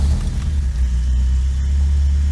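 An old Toyota truck engine with a newly fitted exhaust idles, a steady deep rumble close up that holds even and loud for the whole moment, with no talk.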